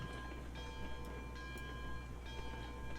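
A long freight train with extra cars runs steadily in the Railroads Online video game, a continuous mechanical rumble with faint tonal whine and light clatter throughout, no talk.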